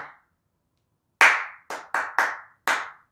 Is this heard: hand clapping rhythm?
yes